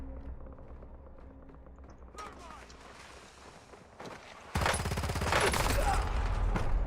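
Gunfire in the video game Warzone: quiet at first, then sharp shots near the two-second mark, and a loud sustained burst of rapid fire from about halfway through to the end, with a voice talking over it.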